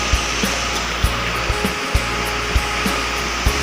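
Mountain stream water rushing over rocks, a loud, steady broadband roar with faint low thumps at irregular intervals, no talking.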